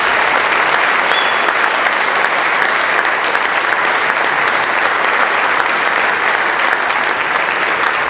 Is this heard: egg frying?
no